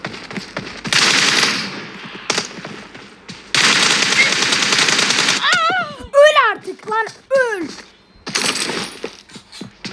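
Rapid automatic gunfire in the mobile battle-royale game PUBG Mobile crackles in dense, loud bursts, with short pauses between them, followed by sharp ricocheting whistles and scattered shots, while a player talks over parts of it.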